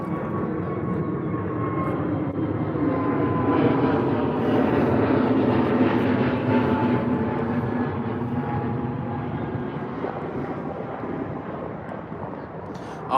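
A British Airways airliner departing London Heathrow, its engines producing a loud, steady roar that swells and holds for several seconds, then eases slightly as it pulls away.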